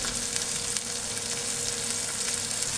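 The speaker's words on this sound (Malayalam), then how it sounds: "അപ്പം നമ്മുടെ മീൻ വറുത്തെടുത്തുകൊണ്ട് നമുക്ക് ഇതെടുക്കാം" Fish frying in a hot pan on a gas stove, giving a steady, even sizzle that fills the clip without pause, close and moderately loud.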